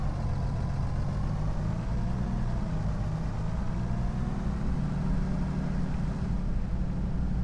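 A tractor engine runs at a steady, low, continuous drone in an apple orchard, close and even throughout, with no voices.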